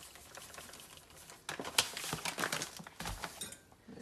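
Pumpkin butter ingredients with brown and white sugar are stirred in a crock pot, giving soft patter and scraping clicks that start quiet and grow into busier, irregular taps and knocks.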